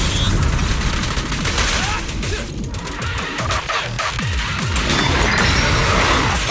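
Dense, loud gunfire fills a cinematic from the video game Zenless Zone Zero: rapid, continuous bursts with crashing impacts, close and overwhelming, with a voice speaking briefly amid the shots.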